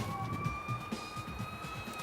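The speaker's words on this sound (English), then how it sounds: "Listen to the siren." A distant city emergency siren wails with a sustained rising tone over low traffic rumble, steady and moderately faint throughout.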